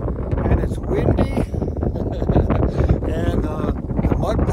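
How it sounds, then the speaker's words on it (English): Strong wind buffets the microphone while riding a motorcycle on a mountain trail in fall, a loud, continuous roar with gusty surges throughout and no talking. "it's fall, and it's windy"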